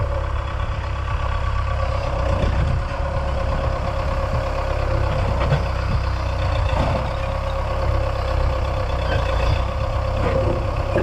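A backhoe's diesel engine runs steadily throughout, a continuous low idling rumble close by with no talk over it.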